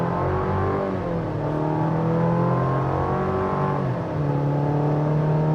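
A 2026 Chevy Colorado Trail Boss with a 2.7 engine accelerates on a multi-lane highway, its steady engine drone rising in pitch under constant road and wind roar, heard from inside the cabin with no talking.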